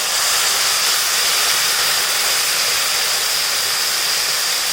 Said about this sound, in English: sim down the flame and add the tamarind juice slowly